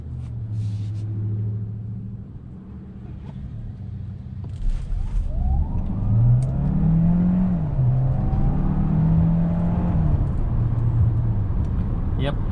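A 2021 Hyundai Santa Fe Hybrid SUV pulls away from a dead stop, its engine and drivetrain note rising steadily and holding as it accelerates, heard from inside the cabin.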